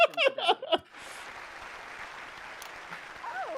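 Crowd applause from the video game Not for Broadcast, a steady broad clapping wash that follows a few brief voiced bursts at the start and carries on evenly at moderate level.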